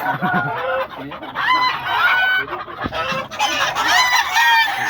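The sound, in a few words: roosters crowing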